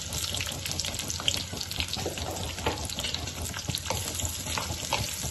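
Chopped onion, green chilli, garlic and ginger sautéing in a little oil, a steady close sizzle and crackle with faint scraping of stirring throughout, no voices.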